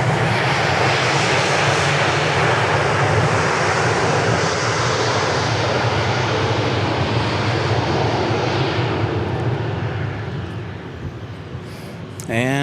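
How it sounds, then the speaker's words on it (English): A fixed-wing airplane lands at Dallas Love Field with a loud, sustained engine roar close by that slowly fades and lowers near the end, with a brief rise at the close. "Nice smooth landing there."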